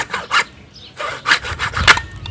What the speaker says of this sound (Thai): อย่างน้อยถ้าเกิดเรามีไม้มาวางมันจะเลื่อยง่ายครับ